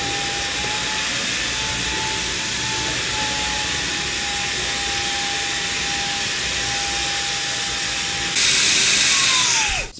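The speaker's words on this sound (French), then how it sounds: "Vous ramassez le plus gros et puis après vous faites les finitions avec cet aspirateur." JIMMY PW11 Pro Max wet and dry vacuum cleaner sucking up egg, a steady close motor whine and hiss that grows louder near the end, then winds down sharply as it switches off.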